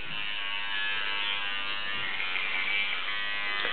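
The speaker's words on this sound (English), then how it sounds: "You brush your teeth like a big girl" A child brushes her teeth with a Dora toothbrush, a steady close electric buzz droning without pause from start to finish.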